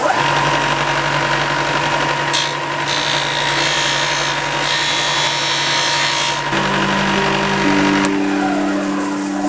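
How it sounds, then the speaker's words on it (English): Sanding disc working a wooden ring with an ebony inlay, a steady loud motor whine and abrasive hiss running continuously, with the tone shifting slightly as the piece is pressed and eased against the disc. "I'll just finish this off with the sanding disc."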